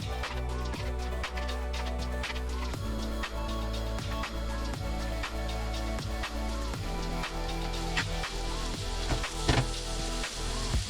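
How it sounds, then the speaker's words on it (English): Pork cubes browning in a pan for a slow-cooked casserole, a steady sizzle and fry noise running throughout with frequent sharp clicks and knocks, likely utensils turning the meat, with no talk. "we're going to brown these in the pan and then transfer it"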